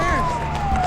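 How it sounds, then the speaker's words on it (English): Police siren from a movie scene wails in a long, slowly falling tone, loud and close, with speech and background film sound mixed underneath. "Chewie, you saw the siren, right?"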